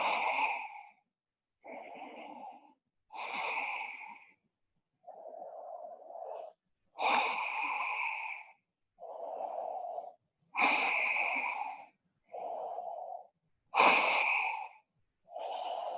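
Slow, audible breaths during a full-body yoga stretching session, about a dozen separate inhales and exhales in an even rhythm, close and fairly quiet with silence between each one.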